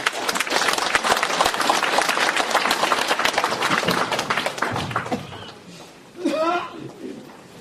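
An audience at a humanities forum applauds to welcome a Changwon Philharmonic violinist, loud dense clapping that fades out around the middle, followed by a brief voice and a few stray sounds.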